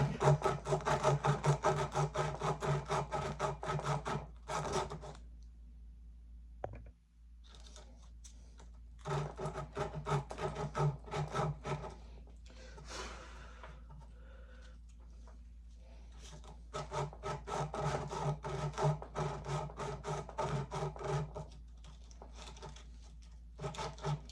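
Hand sanding the crown of a rifle barrel with 150 grit sandpaper, a steady scratchy rubbing in repeated bursts, loud and close, with two quiet pauses between strokes.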